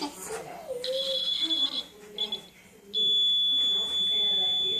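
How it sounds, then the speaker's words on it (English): An electric buzzer in a simple battery circuit sounds in a shrill, steady high tone, first in short bursts under children's and an adult's talking, then holding loud and continuous near the end. "You think it's going to make the buzzer make some noise?"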